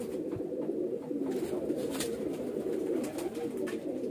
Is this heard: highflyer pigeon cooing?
yes